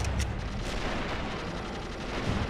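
Continuous dense gunfire and rumbling explosions fill an army men battle game, Blue Army Men battalions defending a city, a steady loud wash of shots with no talking.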